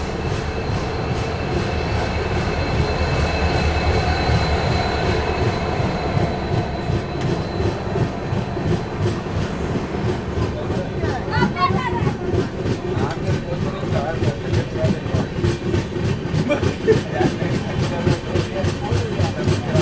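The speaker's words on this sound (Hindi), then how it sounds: "अपनी ट्रेन निकल चुकी है अपनी काशी विश्वनाथ एक्सप्रेस रायबरेली जंक्शन से" The Kashi Vishwanath Express pulls out of Raebareli Junction with a steady, loud rumble and rhythmic rattling of wheels over rail joints, building continuously throughout with some squeal and clatter mixed in.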